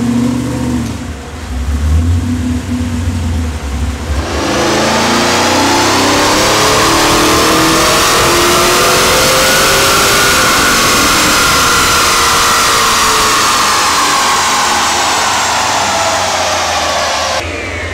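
A 1969 Camaro with an LS3 V8 on Holley EFI runs on a dyno, idling roughly before a sustained loud wide-open pull that climbs steadily in pitch for over ten seconds, then lets off.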